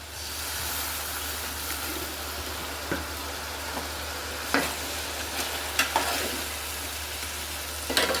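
Hog plum pickle cooking in a pan after vinegar is added, a steady frying sizzle with occasional soft stirring scrapes and faint clinks of a spoon, close and continuous.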